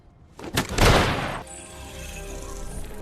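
A rapid burst of gunfire with a booming, crashing impact from the film Spider-Man: Far From Home, loud and close, then fading into a low lingering rumble.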